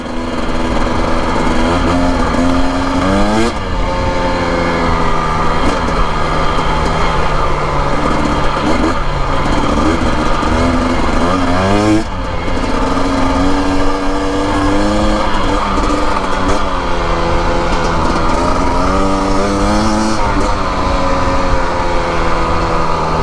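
A 2025 Husqvarna TE250 dirt bike ridden along a bumpy desert trail, its engine loud and close throughout, repeatedly revving up and easing off with gear changes and throttle blips.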